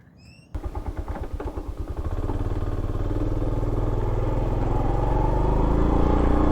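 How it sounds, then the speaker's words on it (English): Honda CT110 motorcycles start up and warm up outdoors in the morning, with a steady, close, throbbing engine idle that begins abruptly, then settles into a continuous loud clattering rumble. "So we're just warming the bikes up"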